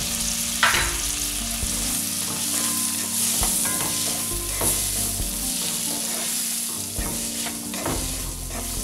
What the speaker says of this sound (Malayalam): നമ്മൾ അത് എടുത്തു വച്ചേക്കുന്ന വെജിറ്റബിൾസ് അതിലോട്ട് ഇടാം